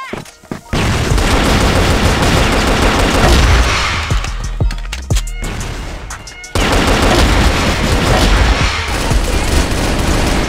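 Loud grenade and flashbang blasts with heavy gunfire in a shooter video game, a dense barrage that dips briefly midway and then surges back at full intensity.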